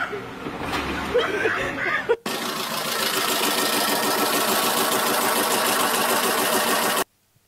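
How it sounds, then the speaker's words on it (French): A car engine with a broken engine mount runs roughly, giving a loud, steady rattling drone that cuts off abruptly near the end, with brief voices and laughter just before it starts. "Le moteur, il fait la java."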